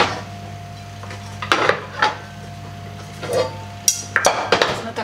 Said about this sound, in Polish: Ok, biorę patelnię.